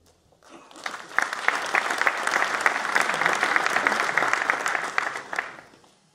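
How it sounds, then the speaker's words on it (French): An audience at a sports colloquium applauds for an absent colleague, a dense, sustained round of clapping that rises quickly, holds steady and fades after about five seconds. "je vous demande de l'applaudir parce qu'il va faire beaucoup pour vous"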